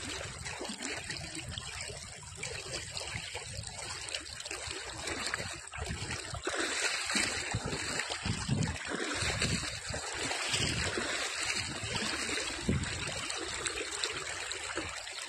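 Shallow river water running steadily over a riverbed beside a field of babul trees, a continuous close trickling and rushing wash that holds even throughout with no voices.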